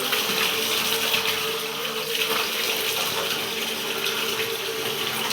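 Holy water runs steadily from a spout at a hillside monastery, a continuous close splashing gush that stays even throughout.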